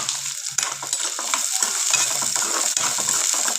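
Onions and green chilies fry in hot oil in a kadai for chicken curry, a loud, close sizzle with repeated scraping and stirring strokes of a spoon against the metal.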